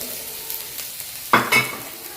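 Tomatoes and chillies sauté in a pan with a soft background sizzle, broken by two brief louder bursts of stirring or scraping near the end.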